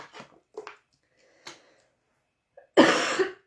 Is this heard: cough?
yes